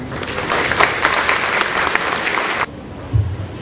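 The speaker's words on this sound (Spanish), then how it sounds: "Recibamos con un fuerte aplauso" Loud, dense applause from a conference audience welcoming a government minister to the stage, ending abruptly, followed by a brief low thump.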